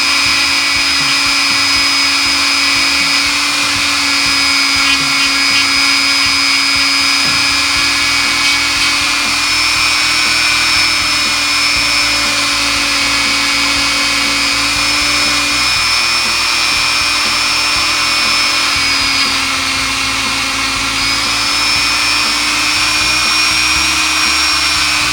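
A rotary power tool polishing the feed ramp of a Taurus pistol, running as a loud, steady, high-pitched whine that holds without a break for the whole stretch.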